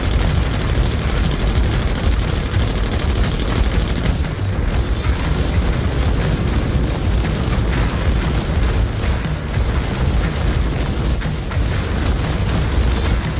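Heavy gunfire and explosions pound a gunship in the Star Citizen space game, a dense, continuous roar of booms and rapid shots that stays loud throughout with no pauses.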